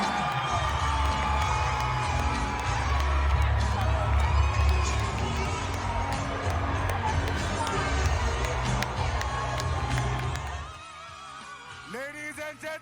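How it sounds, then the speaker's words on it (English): A crowd roars and cheers for the newly crowned Most Beautiful Girl in Nigeria winner at a pageant, loud and sustained with whoops and shouts, then cutting off near the end. "Ladies and gentlemen, please, a warm round of applause in celebration, Miss Abia!"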